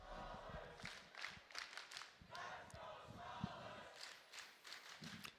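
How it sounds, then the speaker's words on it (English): An esports crowd at a Rainbow Six Siege major in Charlotte roars and cheers ahead of a match on the Skyscraper map, with bursts of shouting and clapping rising and falling, fairly distant and loose. "You gotta love the noise from the crowd."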